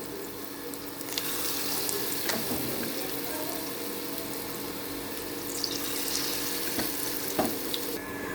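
Potato peel fritters frying in oil on a low flame, a steady close hiss of bubbling oil with occasional light clicks and scrapes of a spatula, without speech.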